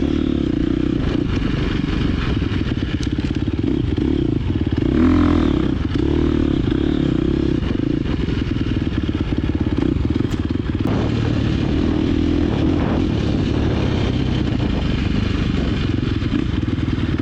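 Dirt bike riding a sand MX trail, its engine droning steadily and close throughout with gritty clatter and scraping from the ride and no talk.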